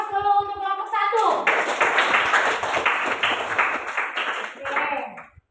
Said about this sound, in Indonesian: Kita beri aplaus dulu untuk kelompok satu.